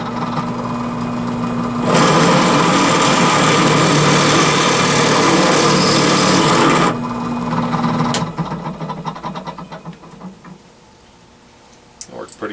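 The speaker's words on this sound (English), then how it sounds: "I've got this set up on my small drill press here" A small drill press drills out a small pin, whining steadily and loudly for about five seconds, then spins down, leaving quieter clicks and handling noises.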